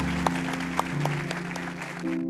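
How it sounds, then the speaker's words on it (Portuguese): A church congregation applauds, a moderate, fairly even spread of clapping with a few sharper claps standing out over a steady tonal hum from music in the room. "Vamos aplaudir o Senhor pela vida deles."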